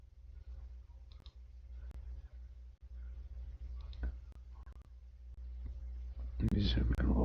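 Computer mouse clicks while editing a sweep in Autodesk Revit 2023: sparse, sharp single clicks at irregular intervals, close and quiet, over a low steady hum, with soft speech near the end.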